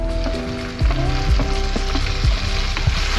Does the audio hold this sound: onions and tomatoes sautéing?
yes